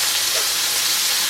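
A steak fries in a hot pan, giving a steady, loud, close hiss and sizzle that runs unbroken through the whole short moment, with no voices.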